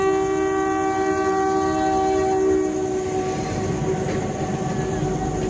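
A train passes on a railway line at Gorham Ghat in Rajasthan, a steady loud rumble with sustained horn-like tones throughout, no voices heard.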